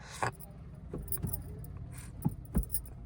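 Gear lever of a Maruti Fronx car being shifted through the gears, giving a few soft clunks and clicks at uneven intervals against a quiet cabin hum.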